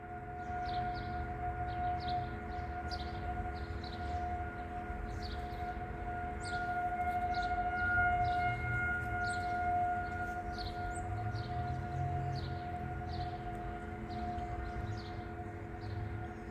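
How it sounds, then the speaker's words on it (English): A civil defense tornado warning siren sounds during a scheduled test in southwestern Michigan, a steady loud wailing drone with a repeated warbling pulse running the whole time and no voices. "they're testing the tornado sirens."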